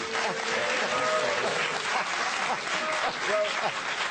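Studio audience of a televised political debate in Edinburgh applauds in a continuous, even wash of clapping, with a voice speaking over it.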